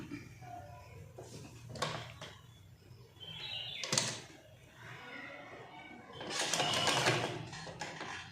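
A sewing machine stitches the pleats of a puff sleeve in short runs of mechanical whirring, with a louder sustained burst near the end, over a faint background hum.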